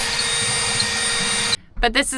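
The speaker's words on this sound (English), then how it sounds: "John be drilling through the fiberglass" A drill bores through the fiberglass wall of a small Casita travel trailer with a steady, whining drone that cuts off abruptly, after which a person starts speaking.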